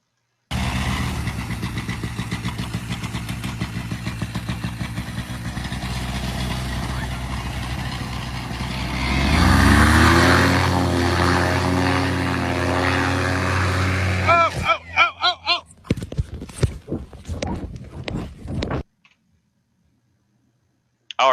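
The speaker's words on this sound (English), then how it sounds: "So this is my first powered paragliding takeoff" A powered paraglider engine roars steadily at close range during a solo takeoff, rising to a louder push around ten seconds, then breaking into choppy, sputtering bursts before cutting out near the end.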